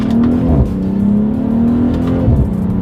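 A 2020 BMW M340i engine pulls hard under acceleration, loud and close from inside the car, its steady rising drone dipping briefly as quick paddle-shifted gear changes land.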